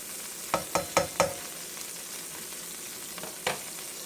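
A non-metal spatula taps and scrapes in a hot skillet, four quick strokes and then a lone later one, over a steady background sizzle.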